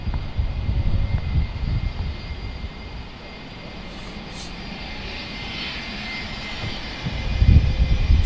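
An airliner taxis on a rapid exit taxiway at Manchester Airport, a broad, steady engine rumble and roar heard from a moderate distance, swelling slightly louder near the end, with no voices.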